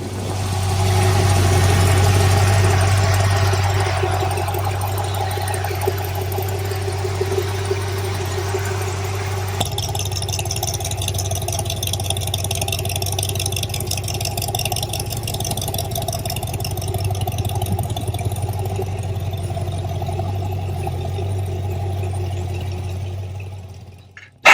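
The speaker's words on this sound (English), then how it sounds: "Get ready to feel the rumble of pure American muscle with the 1964 Shelby Cobra 289" A 1964 Shelby Cobra with a 289 cubic inch V8 idles in a deep, steady low rumble with constant vibration, loud and close for the whole stretch with no voices.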